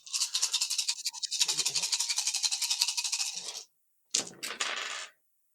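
Twelve dice rattle and clatter together for several seconds in a rapid, loud shaking rhythm, then break off, followed by a second short burst of tumbling clicks.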